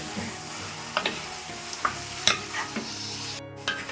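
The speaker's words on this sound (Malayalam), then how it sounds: "ചിക്കനായിട്ട് നന്നായിട്ട് ഇളക്കുക." Chicken fries in a pan with a steady sizzle while a spoon stirs it, giving intermittent light scrapes and taps against the pan.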